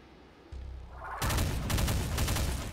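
Assault rifle firing in burst mode in Doom, a loud, dense run of shots that sets in abruptly and keeps going to the end of the clip, over game noise.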